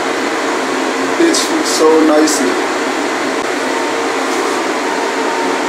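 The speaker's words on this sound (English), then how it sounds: "Front of the window and have the fan on to dry them." An electric fan blowing over pork bellies drying for Hakka cured bacon, a loud steady broadband whoosh filling the whole clip, with a few brief words spoken over it.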